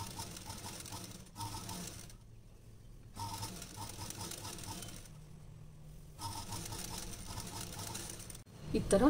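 Domestic sewing machine stitching thread piping onto a blouse lining, running close in short rattling bursts separated by brief pauses.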